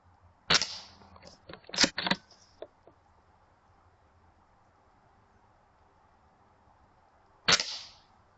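Shots from an Arken Zulus ZHD312R setup on a .22 air rifle while zeroing the scope: a sharp crack with quick mechanical clicks, a second shot with rattling, then a final crack after a long quiet pause, close and isolated.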